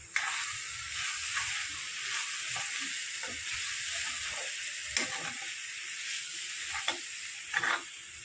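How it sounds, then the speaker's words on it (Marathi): Tender jackfruit bhaji, made Konkan style with sesame and fresh coriander, sizzles in a pan while a spoon stirs it, giving a constant frying hiss broken by scraping and clinking strokes against the pan. "आपली भाजी आहे ती आता व्यवस्थित मस्त अशी फायनली आता मिक्स करून घेणार आहे मी"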